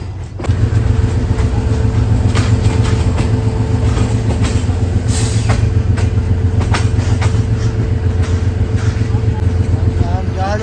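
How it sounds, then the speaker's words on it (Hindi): The Khushal Khan Khattak Express pulls out of Karachi Cantt station with a loud, close, continuous rumble and clattering wheels on the rails. People talk over the noise. "फाइनली कराची कैंट से निकल गई है 5 साल बाद खुशहाल खान खटक एक्सप्रेस"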